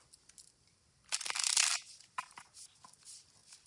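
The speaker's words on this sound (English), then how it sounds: "these cards are so nice to shuffle" Playing cards being shuffled: a brief soft rustle, then a loud dense riffling burst lasting about a second, followed by a few lighter flicks and taps, close by with no talking.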